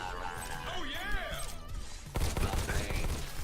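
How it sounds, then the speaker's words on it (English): A bullet shot rings out in a VR game played on an Oculus Rift S, a sharp burst of crackling impacts partway through, over game music and ambience. "is that a bullet?"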